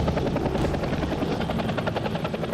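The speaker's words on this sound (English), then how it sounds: "As the chopper lands" A police helicopter coming down to land in a remote part of Alaska, its rotor chopping in a loud, dense, continuous thump with a steady engine roar, very close and without voices.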